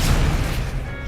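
A booming magical blast from the Expelliarmus disarming spell in the video game Hogwarts Legacy, a short loud rumbling burst with heavy low-end impact.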